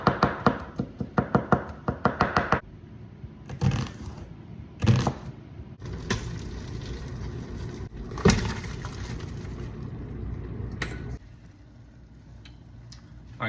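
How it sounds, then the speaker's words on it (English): A knife chops onions on a cutting board, with a fast run of sharp, closely spaced taps at the start, then scattered heavier knocks and pauses before going quiet. "now we're gonna chop up 4 onions"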